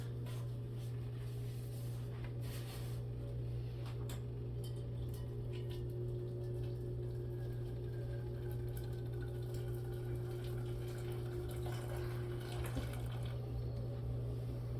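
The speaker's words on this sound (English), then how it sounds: "This is real hot water that I'm putting in here." Hot tap water runs steadily into a cooking pot for soup, a constant close hiss and splash with a low mechanical hum underneath, continuing unbroken throughout without speech.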